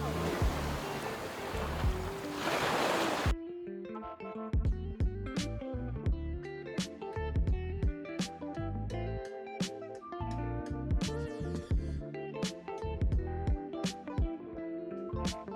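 Waves wash onto a sunny beach at Acadia National Park, Maine, a loud, broad rushing surf lasting about three seconds before abruptly giving way to other, more tonal sounds.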